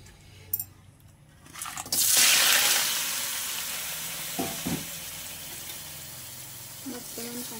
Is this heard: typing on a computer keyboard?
no